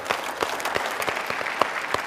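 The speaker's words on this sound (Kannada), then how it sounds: "ಶ್ವೇತಾ ಅವ್ರ ಚಪ್ಪಾಳೆ." Brisk audience applause on a television game show set, a steady close patter of many hands with sharper individual claps standing out, continuing for a couple of seconds.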